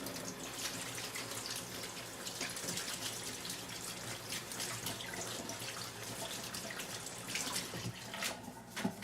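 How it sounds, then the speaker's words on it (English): A kitchen tap runs hard while hands are rinsed, a loud close gushing splash that is steady and broadband, with brief spatters near the end. "Rinse my hands off."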